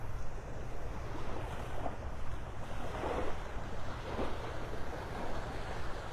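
Surf washes continuously onto the beach at Delnor-Wiggins in North Naples, Florida, a steady, dense rush of waves mixed with wind buffeting the microphone, with no voices.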